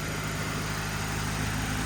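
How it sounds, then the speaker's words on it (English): A Saab 900 with a manual-swapped gearbox idles slightly high around 1500 rpm while warming up, a steady close engine hum with a constant low drone and no change in pitch. "It's idling a little bit high, still at around 1500."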